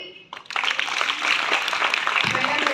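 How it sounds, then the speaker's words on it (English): A school audience applauds after a student's speech marking Lokmanya Tilak's death anniversary and Annabhau Sathe's birth anniversary. A brief tone gives way to dense, steady clapping from many hands that continues to the end. "Clap for her."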